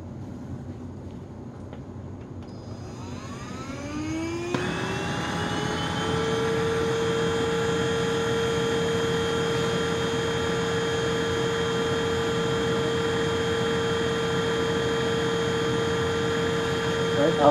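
A PRETTYCARE W100 vacuum cleaner spins up from quiet to a steady low-speed whine, the motor pitch rising over a few seconds and then holding an even, close drone.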